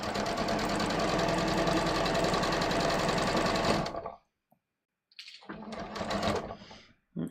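Sewing machine stitching a pleated strip of fabric, a steady close whirring run of stitches for about four seconds, a brief stop, then another burst of stitching.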